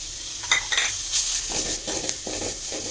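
Ginger garlic paste being stirred into sautéed onions in a pan for an egg curry, with a soft frying sizzle under several close spoon scrapes and light metallic clinks, no talk.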